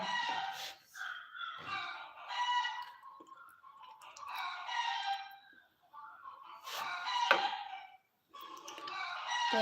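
Backyard chickens calling in bursts of clucking and crowing-like squawks, several separate phrases with short quiet gaps, moderately near and fairly faint, no talk over them.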